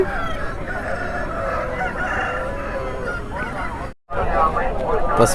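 Roosters crow and chickens cluck loudly and continuously at a busy rural country chicken market, with black-spotted roosters around three kilograms on sale and people talking under the steady poultry noise.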